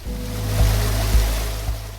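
Water flows at a waterfall in the Mersin Mut area of Turkey's Mediterranean region, a steady broadband rush heard up close with a low constant hum and no voices.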